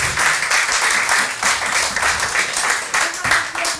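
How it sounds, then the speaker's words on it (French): Church congregation claps together in warm, continuous applause, a close and lively patter of many hands that swells and eases in waves with no speech on top. "On peut applaudir le Seigneur."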